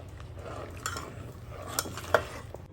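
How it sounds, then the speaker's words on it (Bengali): Milk with bay leaf and cracked cardamom is being stirred as it boils in a pot, giving a faint, soft bubbling simmer with a few light clinks of a spoon against the pan. "নেড়ে চেড়ে দুধটাকে জাল করে নিচ্ছি"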